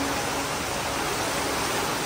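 Dense, continuous rush of rising flood water in Borongan, loud and close, like a fast torrent pouring steadily without pause.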